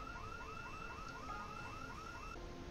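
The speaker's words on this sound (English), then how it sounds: "house alarm has gone off, that's a good sign" A house alarm wails in Project Zomboid, heard as a faint, distant repeating two-tone siren that cycles steadily over a low ambient rumble.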